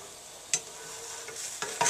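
A fluffernutter sandwich sizzles in a hot pan with a steady soft hiss, punctuated by a couple of sharp spatula clicks and scrapes as it is turned.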